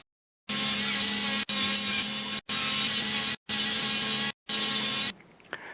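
A small power tool sanding leather runs in five loud, steady bursts, each about a second long with brief stops between them, then cuts off into quiet.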